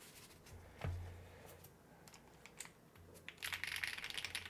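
Typing on an Akko M1 V5 keyboard fitted with Akko Cilantro switches and double-shot PBT keycaps: scattered close, quiet clacks, then a quicker burst of keystrokes near the end, with a low hum under it.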